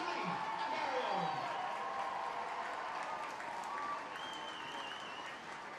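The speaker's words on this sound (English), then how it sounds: "let's get a huge round of applause from the teams" A stadium crowd at a women's Six Nations rugby match between Ireland and Italy applauds steadily, a dense wash of clapping and cheering that fades slightly toward the end, with people talking over it.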